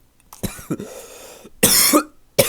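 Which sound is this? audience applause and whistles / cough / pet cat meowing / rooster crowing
cough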